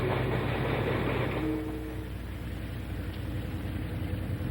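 A chartered Santa Fe Railroad freight train rumbles along the track carrying equipment and supplies from California to New Mexico, a steady close roar with a brief tonal whine partway through.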